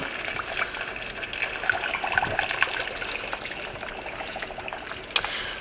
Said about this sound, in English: I'm just gonna pour the water in.